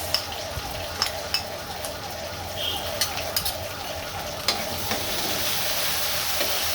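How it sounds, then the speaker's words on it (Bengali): Shrimp tossed into a pan of lightly fried onions for a shapla (water lily stem) dish, giving a steady close sizzle with scattered stirring clicks and scrapes from start to finish. "পেঁয়াজটা হালকা ভেজে নিয়েছি। এখন দিচ্ছি চিংড়ি মাছ,"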